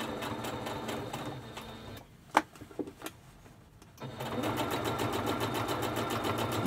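Sewing machine stitching fabric for a pleated boat-shaped face mask, a fast steady run of needle strokes that stops for a couple of seconds with a few clicks and handling sounds, then resumes at the same steady pace.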